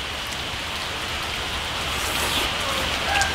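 Steady rain falling outdoors in a rural village during a spell of daily wet weather, a continuous soft patter of drops on surfaces with a few brighter splashes standing out near the end.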